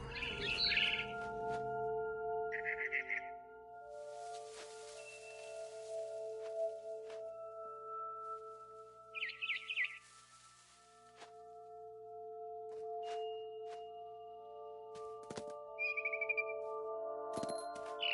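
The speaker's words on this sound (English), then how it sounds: "Then I heard chirping outside my window. It was a barn swallow going back to her nest." A barn swallow in the video game What Remains of Edith Finch, bright chirps and tweets in scattered short bursts over a sustained tonal game score, fairly close and clear.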